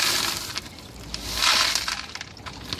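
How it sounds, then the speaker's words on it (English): A bucket of substrate and dirty water is dumped out, giving a splashing, gritty rush with a swell in the middle and scattered clinks and trickles, heard up close. "So I just dumped another bucket."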